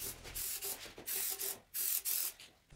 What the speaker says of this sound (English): I thoroughly scuff it with a medium Scotch-Brite pad